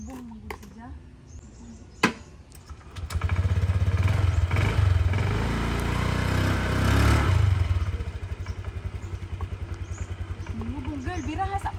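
A rented motorcycle idles and then revs with a steady low engine rumble for several seconds on Bantayan Island, close to the microphone, while women chat over it.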